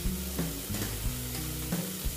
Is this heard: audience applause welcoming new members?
no